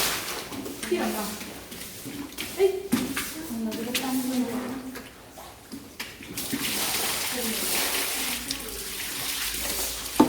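Water being poured and splashing, a steady rushing flow with some spatter, heard close under people talking loudly nearby throughout.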